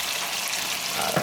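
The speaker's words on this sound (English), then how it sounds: "we're going to go ahead and add our red wine" Red wine pours into a pan of slow-cooked beef short ribs, giving a steady hissing sizzle and liquid rush that holds for the whole short moment, close and without talk.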